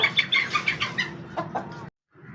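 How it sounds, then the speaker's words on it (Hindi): A desi Aseel hen clucks close by in a series of quick, sharp calls that trail into softer clucks and then stop. "देसी असील मुर्गी है जी ये, माशाल्लाह बड़ी खूबसूरत, तंदुरुस्त है और बेहतरीन है।"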